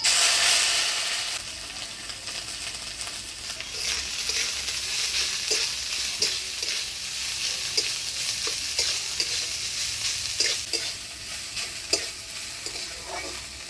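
Vadal bori fries in hot oil tempered with dried chillies and nigella seeds, giving a continuous crackling sizzle up close, with a louder burst at the start and intermittent stirring clinks throughout.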